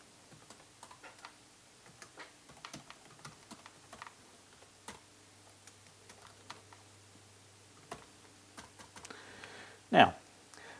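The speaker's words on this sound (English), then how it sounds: "I'm going to type in some employee names." Computer keyboard typing while entering employee names into an Excel spreadsheet, sparse close clicks and tapping in irregular bursts, with a louder thump near the end.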